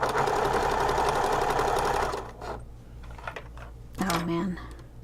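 Sewing machine stitching a wallet seam for a crossbody wallet, a fast, close mechanical whirr for about two seconds, followed by quieter handling sounds and a short tonal beep.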